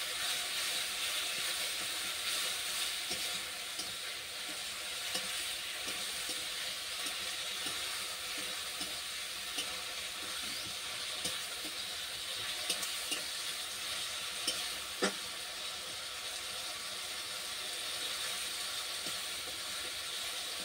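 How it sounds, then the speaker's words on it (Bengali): Spice paste with a little sugar sautés in a pan, giving a steady, even hiss of sizzling oil throughout with one brief clink partway through and no voices. "অল্প পরিমাণে একটু চিনি, দিয়ে আমি পুরো মশলাটা কষিয়ে নেব"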